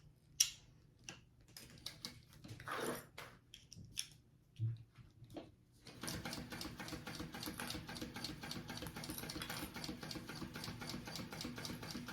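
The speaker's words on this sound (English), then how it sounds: "So I am going to sew along this marking on my zipper facing." A sewing machine stitching along a marked line on a bag's zipper facing: a few faint scattered clicks and handling sounds, then a steady, fast mechanical whirring run of stitches that continues to the end.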